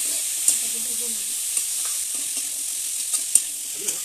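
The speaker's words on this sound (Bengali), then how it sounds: "সবকিছু ভালোভাবে নেড়ে চেড়ে এটাকে ভেজে নেব।" Sidol curry, a fermented fish dish, sizzles steadily in a pan over a clay stove while a utensil stirs it, giving several distinct scraping knocks over the continuous hiss of frying.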